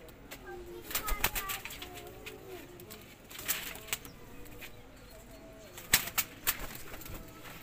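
A captured pigeon coos softly while its wings beat in sharp, intermittent flurries of flapping, heard close by in several bursts over the clip.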